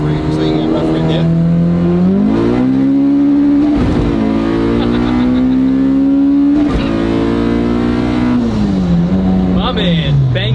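A 1050 hp all-wheel-drive Honda Civic hatchback pulling hard, its loud engine note climbing in pitch, dropping sharply at each gear change, then rising again over several shifts.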